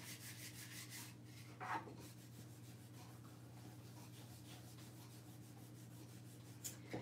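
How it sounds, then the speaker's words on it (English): Paper being rubbed off a surface by hand, a steady soft scraping that runs faintly under a constant low hum, with a couple of brief louder scuffs. "And just rub all the paper off here."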